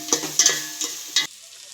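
Egg fried rice is stirred in a hot pan, with a spatula scraping in four quick rhythmic strokes over a soft sizzle before going quiet.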